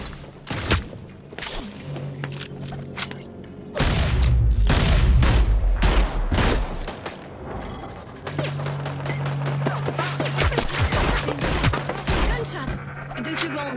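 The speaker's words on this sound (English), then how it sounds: "Gunshot!" Rapid bursts of gunfire and heavy booms from the Hyper Scape video game during a low-gravity event, loud and dense, with mechanical clicks and a steady low hum underneath.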